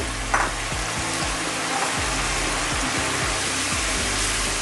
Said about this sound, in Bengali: আমি এইভাবে নেড়ে চেড়ে কষিয়ে নিব